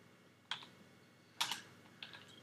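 Typing on a computer keyboard, heard as a few short, close bursts of keystroke clicks separated by brief pauses, with no voices.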